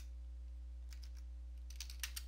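Keys on a computer keyboard tapped to enter a command, a few faint scattered clicks followed by a quick burst of keystrokes over a steady low electrical hum.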